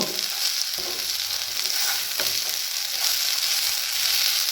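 Potato slices fry with poppy seeds in a pan, a loud, continuous sizzle broken by a few sharp scrapes and knocks of a spatula stirring, with no voices.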